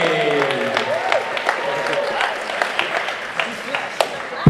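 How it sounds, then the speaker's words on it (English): Applause from an audience at a squash league finals event, a steady patter of clapping with a few sharper claps, running continuously throughout at moderate loudness. "One more round of applause for Sebastian the Flash"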